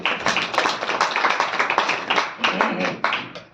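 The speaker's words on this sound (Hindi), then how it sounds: "आंटी के लिए जोरदार तालियां हो जाती" Scattered hand clapping from an audience at a Hindi-language church gathering, fairly loud and close, uneven rather than a full roar, lasting a few seconds.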